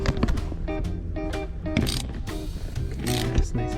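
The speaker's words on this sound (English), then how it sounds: "Finish with the wrench." A wrench tightening lap belt hardware in a 1968 Ford Fairlane 500, close metallic ratcheting clicks and clanks in irregular bursts, with rattling handling noises in between.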